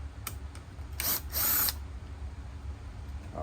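Cordless power drill working screws in the interior of a Ford F150 Harley edition truck, two short whirring bursts over low background rumble, close and moderately loud.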